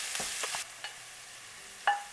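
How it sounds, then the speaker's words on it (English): Vegetables for a fish pie sautéing in a pan, a soft hiss under a few light stirring taps and one sharper clink, quiet and close. "I'm going to let that saute for a couple minutes."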